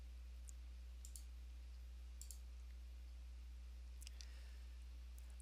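Faint computer mouse clicks land a few times at irregular intervals over a low steady hum while a chart filter option is selected.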